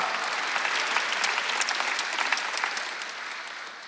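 Congregation clapping together during a Wednesday worship service at a Korean church, a dense, steady wash of many hands sustained throughout, fairly loud and close, with no voices over it.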